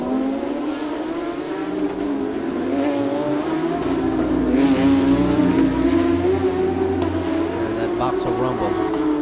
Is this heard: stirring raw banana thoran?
no